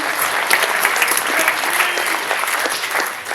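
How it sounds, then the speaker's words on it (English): A comedy club audience in Vermont claps in loud, dense, sustained applause that fills the room evenly throughout. "Give yourselves a hand for coming out tonight and supporting comedy."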